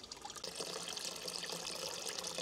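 Mains water rushes steadily into the rubber balloon inside a hydropress used for pressing red wine grapes, a continuous close hiss and gush of running water with no pauses.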